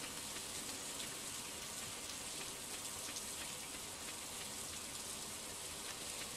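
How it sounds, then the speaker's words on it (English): Steady rain falling in a farming video game, a constant dense hiss of drops spread evenly across the whole stretch, with no talk over it. "Convenient that it is now raining."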